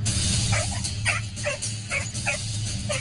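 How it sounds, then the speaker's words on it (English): A frightened dog fighting against a leash, giving a run of high, rising whimpers and yips in quick succession over a steady low background hum, fairly close. "Dog did exactly what any scared dog would do, put up a fight."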